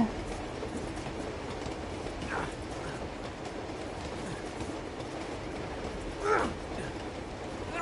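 A moving train in the video game Uncharted 2: Among Thieves gives a steady, continuous rumble with faint rhythmic rattling and a brief metallic squeal, running throughout without talk.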